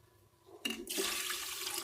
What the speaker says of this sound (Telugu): 2 కప్పులు సేమియాలకి 2 గ్లాసులు వాటర్ వేస్తున్నాను అనమాట